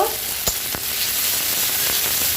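Whole cumin, slit green chili, chopped tomato and ginger paste sizzle in hot oil for a ghugni, a steady broadband fry with a couple of brief stirring clicks and no voices.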